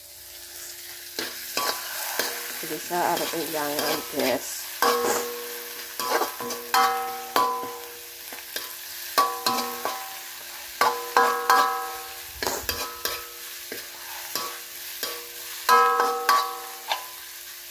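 Food sizzles and crackles in a hot pan while a utensil scrapes and stirs repeatedly, with a brief spoken line over it.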